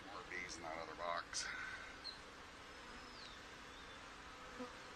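Honey bees buzz faintly in the background, a soft steady hum with occasional closer passes, while a person talks quietly over it as nurse bees are added to a nuc box.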